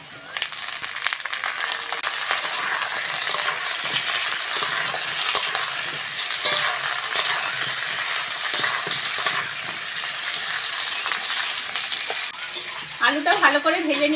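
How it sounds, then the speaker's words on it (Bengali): Cut potatoes frying in oil crackle and sizzle steadily up close while being stirred, with scraping and crunching textures throughout and a brief burst of speech near the end. "আলুটা ভালো করে ভেজে নিয়েছি"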